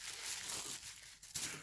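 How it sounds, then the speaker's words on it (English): A plastic bag crinkles close by as it is handled during a look at a collection of 1/64 die-cast Corgi Junior and Husky model cars from 1968 to 1971, with continuous soft rustling and a brief pause before resuming. "plastic bag is sticking to me"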